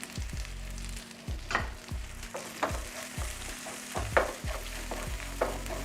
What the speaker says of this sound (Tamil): பெருங்காயத்தூள் சேர்த்துட்டு நல்லா வதக்கிடுங்க.